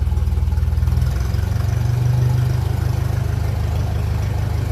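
A 1957 Ferguson 35 tractor with a TVO engine idles steadily up close, a low rhythmic throb with a faint hum running through it and no voices.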